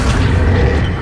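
The Accio summoning spell in Hogwarts Legacy gives a brief, loud, heavy whooshing rumble with a booming low end that fills the whole moment, no voices present.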